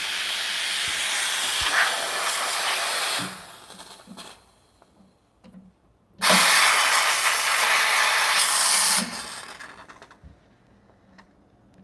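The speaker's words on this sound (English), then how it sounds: "Seems like Gallatin has more powerful steam" Steam wand on a Turin Gallatin espresso machine hissing in two loud bursts, each about three seconds, separated by a quieter gap with faint clicks, close and harsh.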